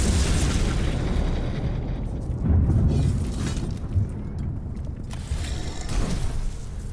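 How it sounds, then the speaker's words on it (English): A loud, rumbling explosion fills the Warhammer 40k: Mechanicus 2 video game battlefield, with sustained roaring debris and several further bursts and pops over about seven seconds. "that's gonna be a big explosion over there"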